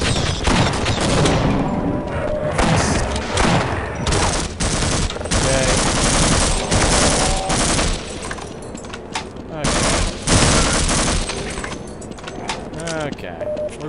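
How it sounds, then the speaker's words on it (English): Gunfire in the Half-Life mod Optimum Fear, dense, loud and near, with rapid automatic bursts and shots running almost without a break, and a voice talking over the shooting. "Why are you shooting me?"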